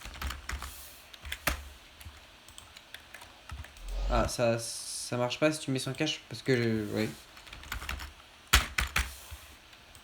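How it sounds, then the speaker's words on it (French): Rapid clicking of computer keys runs in bursts under someone talking nearby, with some louder clacks between the words. "Désolé pour le bruit de clavier,"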